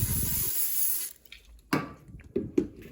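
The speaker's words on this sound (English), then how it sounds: "I'm gonna spray this down again." A steady hiss of aerosol cooking spray into a crêpe pan for about a second, followed by a few light clanks and taps of cookware.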